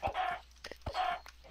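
Chickens cluck in a blocky video game world, two close, clear bursts of clucking with short scratchy sounds between them and no talking.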